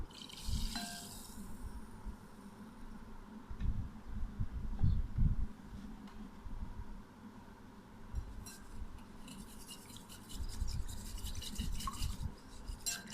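Milk, egg and sugar for a chocolate cake batter are whisked by hand in a bowl with a soft, continuous rhythmic swishing and light clinks against the sides.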